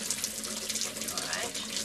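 A cold water tap runs steadily in a house, giving a soft, continuous rushing hiss of flowing water heard at moderate distance.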